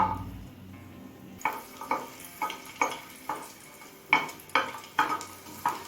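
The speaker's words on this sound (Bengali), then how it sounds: "এবার এই একই তেলে দিচ্ছি ছ কোয়া রসুন" Six garlic cloves fry in oil already used for frying chillies, a soft sizzle broken by about eight rhythmic scraping strokes of a spatula against the pan, close and clear with no talking.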